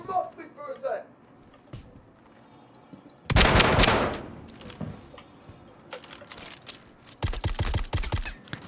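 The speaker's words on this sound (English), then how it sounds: "7-round mag dump from a shotgun is definitely enough to do some serious damage." Shotgun fire in the Star Citizen video game, a seven-round magazine dump heard as a loud burst of blasts followed later by a rapid cluster of shots, with quieter game noises between.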